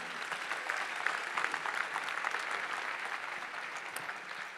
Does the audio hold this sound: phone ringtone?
no